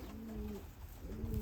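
A shadow line pigeon coos softly nearby, two drawn-out low coos in a row with a brief pause between, alone against faint outdoor background noise.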